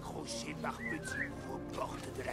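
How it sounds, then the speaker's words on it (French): A short rising-and-falling whistle sounds in Assassin's Creed Mirage to lure a guard, faint and brief beneath someone talking over game ambience. "On va siffler un coup."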